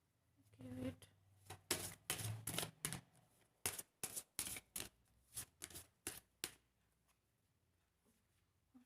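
Handwritten paper cards being handled and shuffled close by, a series of crisp rustling flicks in an uneven rhythm, with faint voice murmur underneath.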